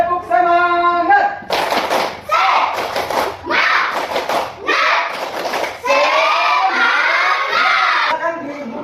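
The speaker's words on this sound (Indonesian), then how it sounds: "Tepuk semangat." A school class performs a rhythmic 'tepuk semangat' spirit clap, bursts of group clapping in patterned sets mixed with loud chanting children's voices, after a single adult voice begins it.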